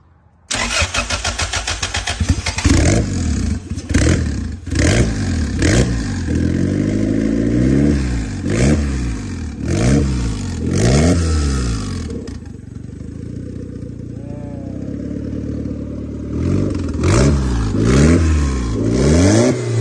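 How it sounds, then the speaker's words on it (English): Honda car engine on its first startup after repair: it cranks and catches, then a run of repeated loud revs rising and falling in a steady rhythm, with a brief settle to idle midway before more revving, close and loud. "We got it to run."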